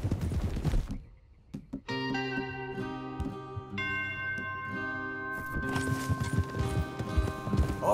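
Horse hooves clip-clop in a steady rhythm over sustained background music in Red Dead Redemption 2, with brief louder bursts near the end.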